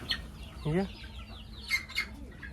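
Desi country chickens on a village chicken farm, a few quiet clucks and short calls scattered over a faint background, heard close but at low level.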